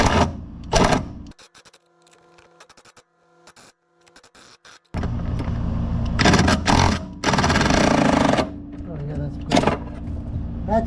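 A pneumatic impact wrench works on Fiat 124 Spider 2000 suspension during a new A-arm install, with several loud, close rattling bursts between quieter spells and people talking around it.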